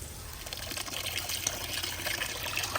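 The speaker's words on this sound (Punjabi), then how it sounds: "ਹੁਣ ਜੀ ਚੌਲ ਚੰਗੀ ਤਰ੍ਹਾਂ ਧੋਣਗੇ" Rice rinsed in a pot of water for a village-style pulao, with a steady, close sloshing and trickling of water that continues throughout, no voices.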